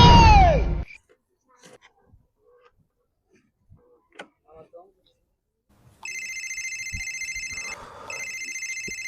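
A telephone rings with a steady electronic trill that starts partway through and continues to the end, briefly broken by a rustle. Scattered quiet sounds and faint voices come before it.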